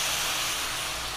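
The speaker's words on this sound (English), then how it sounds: "we're going to take a little bit of red cooking wine just to deglaze" Red cooking wine deglazes a hot pan used for rib-eye steak and portobello mushrooms, a continuous airy sizzle and steam hiss, moderately soft and slowly fading, with no voices.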